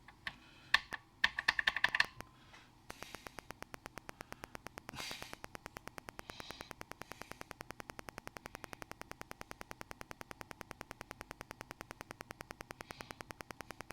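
Rapid, steady clacking of keys on an Electronica CIP-03 ZX Spectrum clone keyboard, close by, with a few louder bursts and breaths at the start before a long even typing run.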